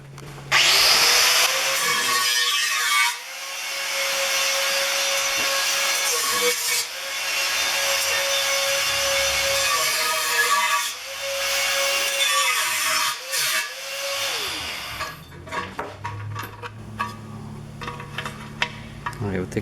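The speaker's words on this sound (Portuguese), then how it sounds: "Agora eu vou pegar aquele disquinho fininho e vou fazer o quadrado aqui." A thin cutting disc grinds a square opening into an aluminium crankcase, a loud steady whine broken by short pauses and restarts, ending with quieter clatter and handling noises.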